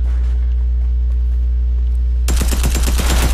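Video game gunfire bursts out as a rapid, loud string of shots after a steady low hum, the shots rattling in quick succession until the end.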